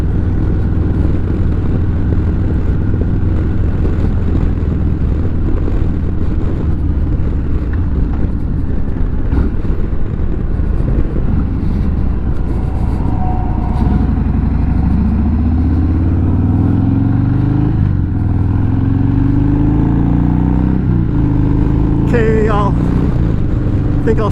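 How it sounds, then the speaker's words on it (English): A motorcycle with a GoPro clamped to it rides around a block, its engine droning loud and steady under wind rush throughout, with rising and falling revs as it accelerates and shifts, and a voice speaking briefly over it. "I think I'll just kind of ride around the block a couple of times, put the GoPro in different places."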